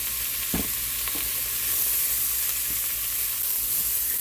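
Sausage sautéing in a pot with a sprinkle of garlic powder gives a constant hissing sizzle, with a few soft spoon scrapes and stirring knocks near the start.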